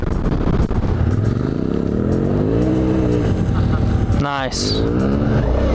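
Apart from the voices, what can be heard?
Suzuki V-Strom motorcycle accelerating hard through first and second gear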